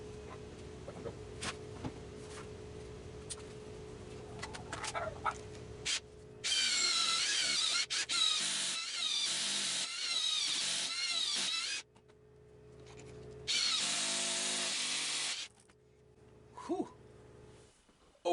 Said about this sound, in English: I'm going to drill 2 pocket holes on either side of this